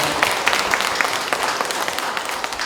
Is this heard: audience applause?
yes